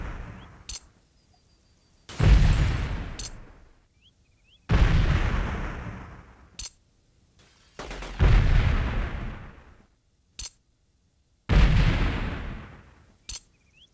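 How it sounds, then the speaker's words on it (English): Video-game grenade blasts in Delta Force 2: five separate booming explosions, each a sharp thump with a decaying rumble, spaced a few seconds apart with quiet gaps and small clicks between them. "the best solution to this that I found is just chuck a bunch of grenades down there"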